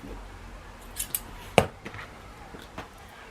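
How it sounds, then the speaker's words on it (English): Scissors cutting a fabric band for a beanie hat, a few quiet snips and one sharper, louder cut in a quiet room. "I'm going to cut the band."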